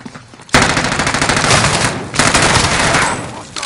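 Video game gunfire breaks out suddenly in long, loud bursts of rapid automatic fire. A brief pause comes midway before the shooting resumes, close and dense.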